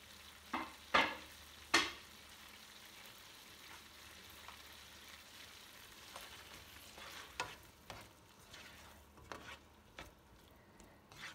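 Tomato and peppers fry quietly in a pan with a soft, low sizzle, broken by a few sharp clinks and stirring scrapes near the start and scattered light knocks later.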